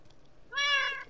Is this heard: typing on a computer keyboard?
no